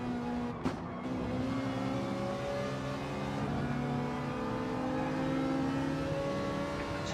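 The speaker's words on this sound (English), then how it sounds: "You can hear Dommy just backing off the throttle" A race car in a racing video game at Dragon Trail Seaside holds a steady, loud engine drone, the pitch sagging slightly as the driver eases off the throttle, with no voices.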